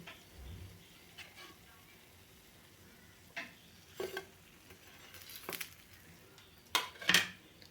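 Bread slices fry in hot oil for shahi tukda, making a faint, steady sizzle close by, broken by a few soft clinks of a spatula against the pan.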